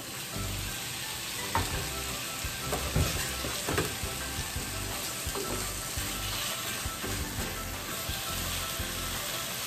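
Chicken fries in a pan with no oil, a steady close sizzle with scattered pops and occasional stirring clatter, no voices over it.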